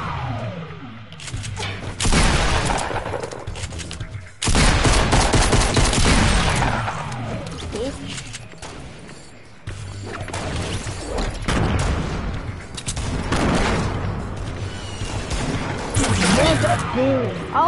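Video game gunfire crackles in repeated loud bursts and volleys, with blasts and crashes mixed in, while a player talks over the action throughout.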